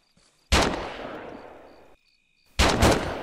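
Gunfire in a first-person shooter video game, two loud sharp bursts separated by a brief silence, each trailing off with a rumbling decay. No voices.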